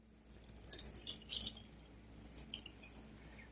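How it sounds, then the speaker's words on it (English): Warm water poured into a bowl of focaccia dough ingredients, a faint splashing trickle in soft uneven bursts, close by, heard alone without talk. "we're going to add 1 3/4 cup of warm water"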